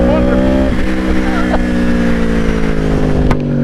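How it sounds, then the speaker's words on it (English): ARC Powersport R1 motorcycle accelerating under throttle, a loud, steady engine drone with rising tones, close by, with someone talking over it. "The bike just absolutely leaps out from under me when you give it throttle."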